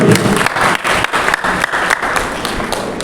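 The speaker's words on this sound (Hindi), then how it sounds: "सभी लोग तालियां मार के जोरदार स्वागत करेंगे" A large crowd of devotees claps loudly and continuously at a Ram Katha religious gathering in a temple, dense rhythmic applause with pulsing bursts, close and sustained throughout.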